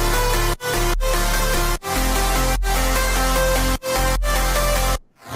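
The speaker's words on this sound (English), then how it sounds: "if you play all the synths, mid basses, saws, leads, sub, sounds like this" Dense stacked synths, mid basses, saws, leads and deep sub bass play together in a loud, full wall of sound, cut by brief rhythmic gaps before stopping abruptly.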